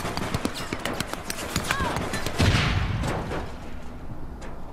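Gunfire in the video game APB Reloaded, a rapid run of sharp close shots followed by a louder burst and rumble, with people talking over the action.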